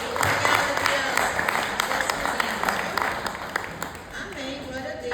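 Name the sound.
congregation applause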